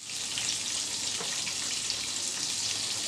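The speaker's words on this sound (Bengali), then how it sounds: "আমি ব্যাটারের সাথে লাগিয়ে এই তো তেলে দিয়ে দিচ্ছি" Chicken sticks dipped in batter fry in hot oil with a steady, dense sizzle and crackle that stays even throughout. It is heard up close, with no voices.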